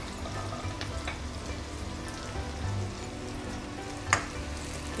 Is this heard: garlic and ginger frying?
yes